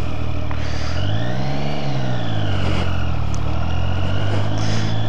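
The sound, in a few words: Triumph Street Triple R motorcycle accelerating in first gear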